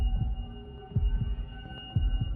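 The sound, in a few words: heartbeat sound effect in a horror story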